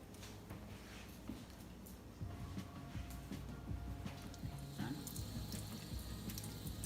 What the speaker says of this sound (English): So we're rinsing with cool water, layer by layer, and this top portion is holding everything together as we're rinsing this leek.